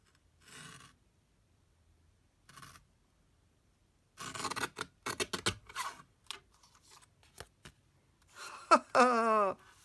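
Blade slicing through paper while a handmade birthday card is trimmed, heard as a few short scraping strokes, then a rapid cluster of crisp cuts and a brief rasping pass near the end, close and fairly quiet.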